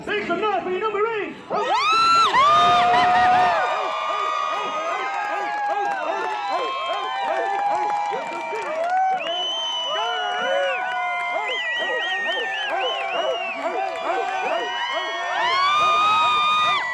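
A crowd cheers and whoops loudly at a USMC graduation at MCRD San Diego, with excited shouts and voices rising in bursts over about seventeen seconds, loudest at the start and end.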